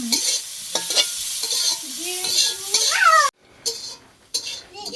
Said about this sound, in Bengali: কাঁচামরিচ দিয়ে দিচ্ছি আমি তেলের মধ্যে নেড়ে চেড়ে একটু ভাজি করে নামিয়ে